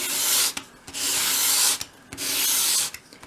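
Sandpaper rubs a bevel onto a tiny wooden piece for a 1/12th scale dollhouse cupboard, three long even strokes with brief pauses between them, close and clear.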